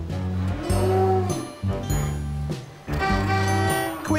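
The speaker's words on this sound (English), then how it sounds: "The cows are going to escape." Farm cows lowing near a barn gate, several long drawn-out moos one after another, loud and close with no talk over them.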